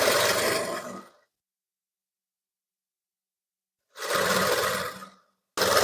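A sewing machine stitches the neckline of a size-34 blouse in two separate runs, each about a second long, with a long silent pause between them and a third burst starting right at the end.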